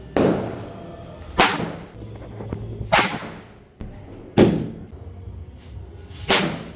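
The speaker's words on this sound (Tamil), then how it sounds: "நான் வந்து பிஜ்லி வெடி போட்டுட்டு இருந்தேன்" Bijli firecrackers set off at night during Diwali explode one after another: several sharp, loud bangs spaced a second or two apart, close by, with quiet crackle between.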